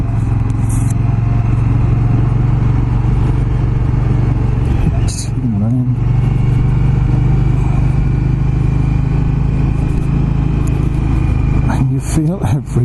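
An Indian Scout Bobber motorcycle underway, its engine a loud steady low drone with occasional clattering bumps, heard close up with a voice talking over it.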